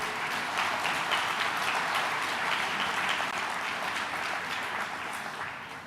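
A hall audience at a municipal New Year's wishes ceremony applauds steadily for about six seconds, a dense even clapping that fades slightly at the end.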